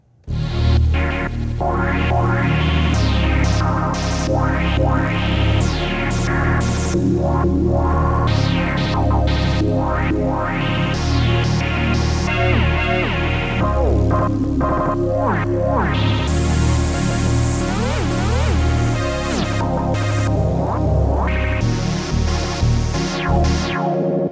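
An SP-404 MK2 sampler and MicroFreak synth play together in an ambient, glitchy, choppy sample layer washed in reverb, loud and dense, with sweeping tones and bursts of bright noise over a sustained low drone.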